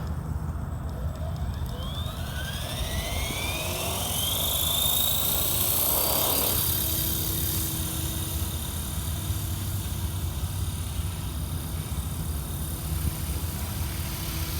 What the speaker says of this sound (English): Really impressed with this helicopter, how well it holds.